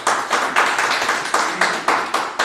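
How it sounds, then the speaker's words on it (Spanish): A church congregation clapping together in a strong, rhythmic burst of applause: loud, evenly spaced claps close by, with no talking over them. "Vamos a darle un aplauso fuerte a la palabra"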